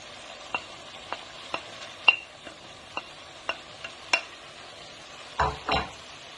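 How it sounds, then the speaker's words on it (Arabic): Onions being stirred in a frying pan with chicken, salt and paprika give light, regular scraping clicks about twice a second over a soft sizzle, then two heavier, louder scrapes near the end. "نحركهم كويس"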